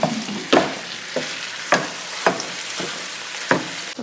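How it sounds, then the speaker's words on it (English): Taco meat browning in a pan at a camp-out kitchen sizzles steadily while a utensil stirs it, making sharp scraping clacks about every half second to second against the pan. "I'm going to give that a stir."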